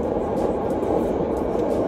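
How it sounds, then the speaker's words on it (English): A train passing in Chicago gives a steady, loud low rumble with a broad roar that holds evenly for about two seconds, with no voices over it. "We gotta wait for the sound to end. Come on, train."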